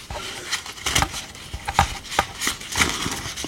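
A deck of tarot cards being cut and drawn, with a run of light taps, snaps and shuffling flicks at close range, irregular and fairly soft.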